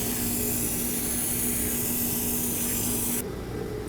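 A cleaning spray hisses steadily at close range during work on an old Mercedes-Benz, then cuts off abruptly near the end, leaving a quieter background.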